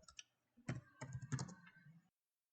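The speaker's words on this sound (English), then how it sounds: "I'm just going to type" Keys clicking on a computer keyboard while typing a school name into a report form, a couple of quick taps followed by a denser run of keystrokes, quiet and close, with no talking.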